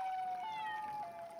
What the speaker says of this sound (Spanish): Mi gato estaba maullando